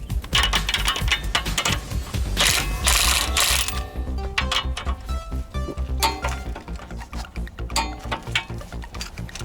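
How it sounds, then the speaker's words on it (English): A hand ratchet with an 18 mm socket tightens a stabilizer bar link nut, its pawl clicking in quick repeated runs with close metallic clinks and handling noise throughout. "now it's time to tighten the stabilizer bar link and the lower nut"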